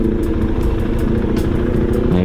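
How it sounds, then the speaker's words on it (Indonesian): A Moge motorcycle sits stationary with its engine idling, giving a steady, loud, low rumble close by throughout. "suara mesinnya cukup terasa, cukup lumayan kedengeran lah ya"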